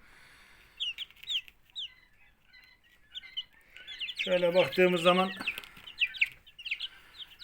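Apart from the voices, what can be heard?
chicks peeping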